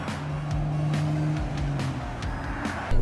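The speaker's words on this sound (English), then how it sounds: "Let's see if I get on the throttle a little bit," A Jeep Wrangler engine under throttle, a steady low drone with harmonic bands that hold and then shift as it accelerates, with faint tire or road noise running throughout.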